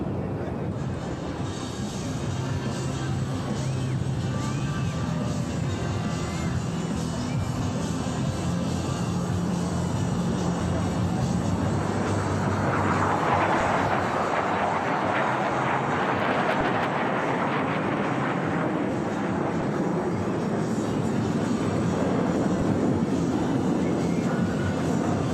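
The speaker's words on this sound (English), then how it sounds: "As each aircraft accelerates to 500 miles per hour, they'll perform a half-cubanate reversal turn" Blue Angels jets roar past during an airshow at Seattle's Seafair, a broad, sustained wash of engine noise that builds and swells toward the middle and lingers distant, with faint commentary underneath.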